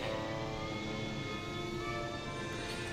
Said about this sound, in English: Guess we're taking the jet.